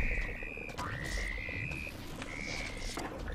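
A cartoon frog in the Lego Harry Potter video game croaks in a few bright, chirpy calls, repeated in short bursts over a steady background of game ambience, with no talking.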